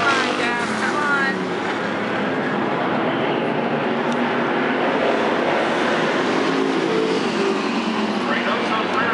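Street stock race cars roar around the Havasu 95 Speedway oval, a steady, dense wash of engine noise that holds loud and unbroken throughout.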